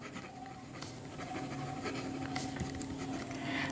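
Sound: writing Heron's formula

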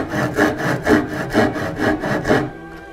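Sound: dovetail saw cutting wood along a scribed line

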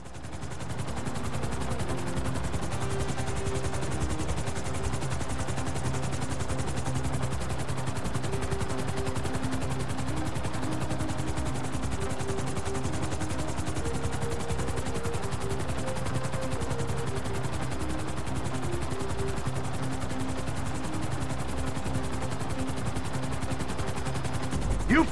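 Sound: helicopter flying in video game GTA 5

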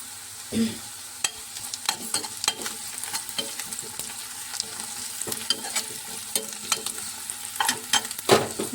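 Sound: curry leaves frying and being stirred in pan

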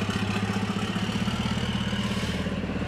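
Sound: racing truck engine, MAN motorsport engine

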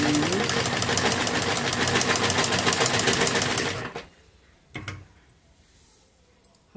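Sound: sewing machine stitching a kurti neckline

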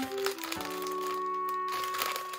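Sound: opening a Pro Baseball Chips card pack wrapper

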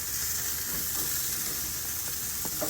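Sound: steak sizzling on a barbecue grill

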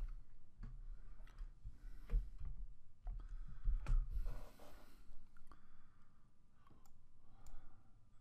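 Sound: computer mouse clicking in Excel

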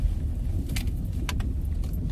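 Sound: car being parked

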